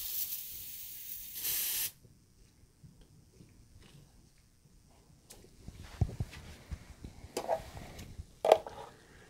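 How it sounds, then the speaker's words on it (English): Air purged from a refrigerant hose on a mini split unit, heard as a short, sharp hiss of escaping gas lasting under two seconds, followed by quieter handling clicks and taps. "Now we want to purge the air out right here, so we'll go ahead and open this up"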